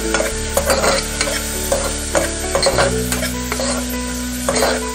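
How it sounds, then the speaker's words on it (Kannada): Turmeric and spices fry in hot oil for Malabar spinach dal, a steady close sizzle broken by repeated scraping strokes of a spoon stirring the pan, with no talk. "ಕಂದು ಬಣ್ಣ ಬರುವ ತನಕ ಸ್ವಲ್ಪ ಫ್ರೈ ಮಾಡಿ"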